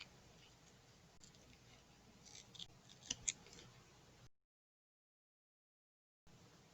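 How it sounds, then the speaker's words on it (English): Scissors snip jute yarn tails on a handmade basket in a few quiet, close clicks, with a brief cluster of crisp cuts, then a stretch of silence. "Okay, then I'll trim those little tails there."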